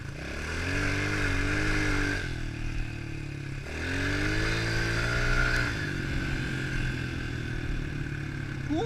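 Small pit bike motorcycle engine revving and pulling hard while ridden, rising and falling through the gears with a steady mechanical buzz and occasional clutch dips, loud and close throughout.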